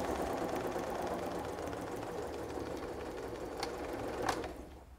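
A sewing machine stitches a seam on a fabric placemat, giving a steady, close whirring rattle that runs without a break, with a couple of sharp clicks near the end as the stitching stops.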